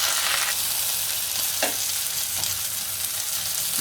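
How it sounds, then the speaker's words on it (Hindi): Ginger garlic paste frying in a pan over browned pink onions, a steady loud sizzle with occasional stirring scrapes, no voices. "अब इसमें मैं जिंजर गार्लिक पेस्ट डाल रही हूँ। इसको थोड़ा फ्राई करेंगे।"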